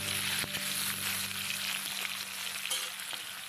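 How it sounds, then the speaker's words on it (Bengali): Potatoes fry in hot oil in a home kitchen with a steady, close sizzle and crackle. There are occasional faint clinks of stirring and no talk over the frying. "প্রথমে আলুগুলো দিয়ে দিলাম তেলের ওপরে"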